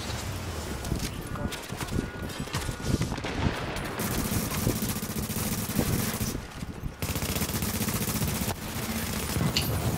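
Light machine gun fire in a video game rattles in long, dense bursts with brief pauses, loud and close, while a player talks over the shooting.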